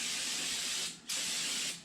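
Cleaner sprays onto an engine windage tray during a turbo LS build, a loud close hiss in two bursts split by a brief pause near the middle.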